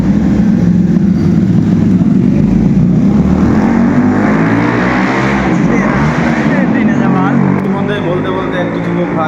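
A young man revs a motorbike engine inside a new subway at Jalalkhali, a loud echoing roar that rises and falls in pitch. A voice talks over the engine throughout.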